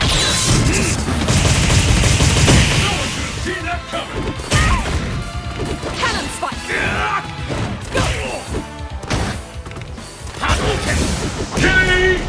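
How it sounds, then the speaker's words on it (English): Cannon fire rings out in a video game match as a rapid series of loud crashing booms and thuds, with whooshes and game voices mixed in among the repeated blasts. "Cannon!"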